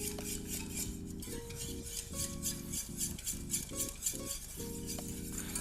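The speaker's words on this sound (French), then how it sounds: "Vous mettez sur un feu très doux et vous allez mélanger votre préparation." A red wine and white roux sauce being stirred in a pot over very low heat for coq au vin, with steady spoon scraping and soft clinks against the pot, close and continuous with no talking.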